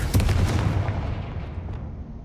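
A Confringo fire spell explodes in the video game Hogwarts Legacy, a loud booming blast with a sharp onset that rumbles and slowly decays.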